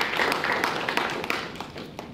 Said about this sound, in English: he really deserves another round of applause for giving such a wonderful speech